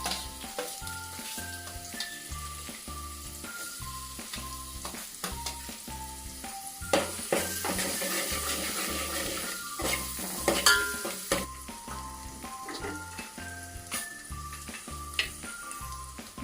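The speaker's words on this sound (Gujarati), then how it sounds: "હવે એક સમારેલી ડુંગળી નાખીશું" Chopped onion hitting hot oil with finely chopped green chillies, garlic and a pinch of asafoetida, giving a soft continuous sizzle under a melodic music track, with occasional stirring clatter.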